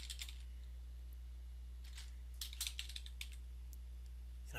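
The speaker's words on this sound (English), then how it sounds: "Going to type in insurance sales." Keys on a computer keyboard are tapped in a few quick, light bursts, faint and close, separated by pauses against a steady low electrical hum.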